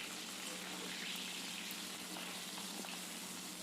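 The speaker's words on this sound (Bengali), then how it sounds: "সেই ইলিশ মাছের মাথাগুলো এবার তেলের মধ্যে দিয়ে ভেজে নিচ্ছি" Hilsa fish heads fry in hot mustard oil in a pan, giving a steady, dense sizzle that stays even and continuous throughout, close and moderately quiet, with no voices.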